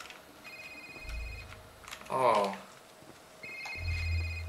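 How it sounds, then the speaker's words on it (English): A phone rings in a Christmas-themed horror video game, a repeating electronic ringtone that starts, pauses and returns, moderately quiet, with a man's brief exclamation and a low hum under it. "incoming call"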